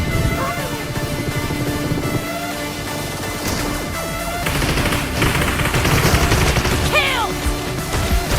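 M104 shotgun blasts and other gunfire in a multiplayer shooter video game come in loud bursts of rapid shots over a busy mix of game effects, with faint voices under the action.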